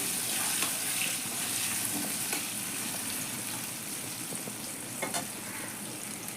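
Potato pieces fry in a pan with turmeric while making a katla fish curry, giving a steady, close sizzle with faint stirring scrapes and no talking.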